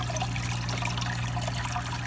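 Water trickling and pouring steadily into a fish bowl while a small pet fish is scooped out of a tank, a continuous close splashing stream with a low hum underneath.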